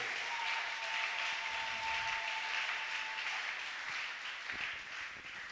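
A church congregation applauds in steady, dense clapping that holds at an even level throughout, with no voices standing out above it.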